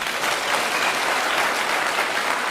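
A church congregation at Kimende, Kiambu, applauds with steady, dense clapping that fills the space evenly and loudly, with almost no voices on top.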